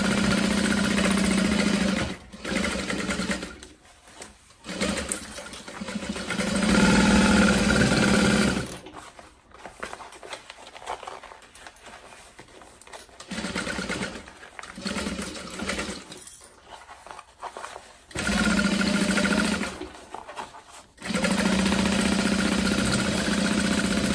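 A home sewing machine stitches a tote bag seam at a long stitch length, a loud, steady mechanical whirr running in several bursts separated by short pauses.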